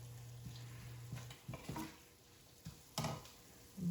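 Onions and sugar caramelizing in a pan give a quiet, steady sizzle broken by a few soft stirring scrapes and taps, without any talking.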